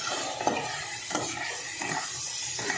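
Garlic sizzles steadily in hot oil in a pan, with a soft frying hiss throughout and occasional scrapes and clinks of a spoon stirring against the pan.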